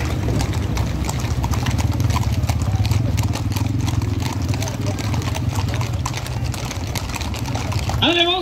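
Horses clip-clop in a steady, busy rhythm during a horseback parade at a town festival in Michoacán, with a loud announcer talking and music playing over the hooves throughout.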